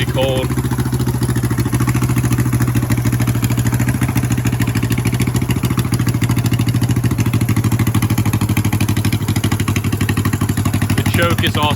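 A Honda CB350 cafe racer runs after a completely cold first-kick start with no choke, settling into a steady, close, clattering idle throughout as a voice talks over it.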